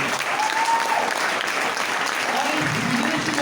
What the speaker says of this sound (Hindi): एक बार जोरदार ताली हो जाती है।